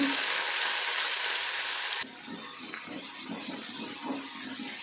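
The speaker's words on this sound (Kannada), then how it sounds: "ಈರುಳ್ಳಿಯನ್ನು ಸ್ವಲ್ಪ ಕೆಂಪುಗೆ ಹುರ್ಕೋಬೇಕು ಫ್ರೆಂಡ್ಸ್" Onions frying in hot oil in a pan for a bitter gourd dish, with garlic already added: a loud steady sizzle that drops abruptly partway through, then continues softer with faint stirring scrapes.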